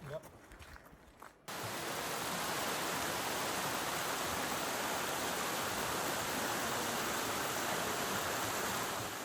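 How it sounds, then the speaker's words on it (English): A small creek running through a mossy forest in Olympic National Park, a steady broadband rush of flowing water close by after a brief quieter moment at the start. "All you hear is like that little creek running."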